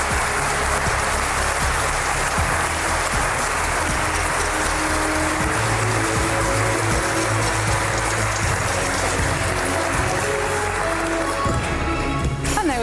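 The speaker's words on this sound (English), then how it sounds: "a round of applause for Peter Liese, Juan Fernando López Villar and Gwendoline Delpos-Corfield" A conference audience gives panel guests a round of applause at a Brussels pre-election event, a dense and continuous wash of clapping that holds steady throughout.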